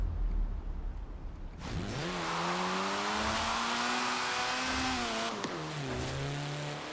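A small, narrow Lotus sports car in Forza Horizon 4 revs up hard with a rising engine whine, holds a steady high drone, then briefly drops pitch on a gear change before climbing again, loud and alone.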